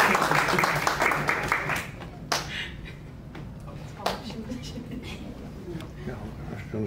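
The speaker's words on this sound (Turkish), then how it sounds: "Sinem Vardar Yıldız, alkışlarınızla lütfen." Guests at a community awards ceremony clap for an honoree, a brisk burst of many hands that fades after about two seconds into a few isolated claps and knocks while a presenter keeps speaking.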